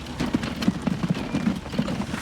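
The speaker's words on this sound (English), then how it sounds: "It takes a while to unload these horse and carriages there." Horse-drawn carriages clip-clop in Transport Fever 2, a steady run of light hoof knocks at close range with faint background noise.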